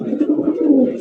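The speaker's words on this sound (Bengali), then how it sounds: "এটা দেখা যায় সুন্দর একটা কবুতর।" A pigeon at a fancy pigeon farm coos steadily and close by, a low, continuous throaty murmur lasting about a second with no talk over it.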